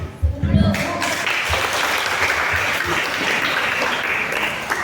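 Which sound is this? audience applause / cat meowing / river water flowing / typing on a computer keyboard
audience applause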